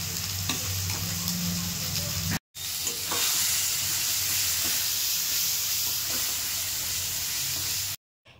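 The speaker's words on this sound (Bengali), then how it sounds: "ভাজা ভাজা করে নিচ্ছি" Loud, steady sizzling of potato and young jackfruit frying in a wok, with scraping stir strokes, briefly cut off twice by silent gaps.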